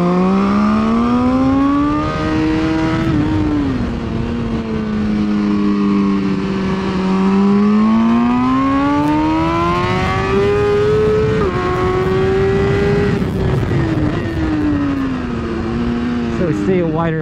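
A BMW S1000RR motorcycle accelerating hard around the Ridge Motorsports Park race track, its engine whining high and loud as the revs climb and fall through gear changes, with wind roar throughout, heard from onboard.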